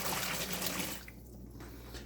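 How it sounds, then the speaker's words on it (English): Two cups of hot tap water pour into a bucket for winemaking, a short rushing splash that thins to a faint trickle and fades. "Now we're going to take that water and dump it into the bucket."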